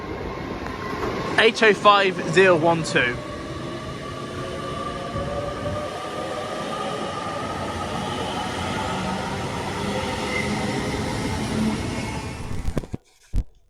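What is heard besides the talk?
Avanti West Coast train departing Crewe for London Euston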